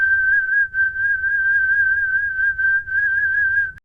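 A person whistles one sustained, steady high tone, held almost unbroken for several seconds with a few brief dips, clear and loud, as a signal for a kids' coding robot to react to.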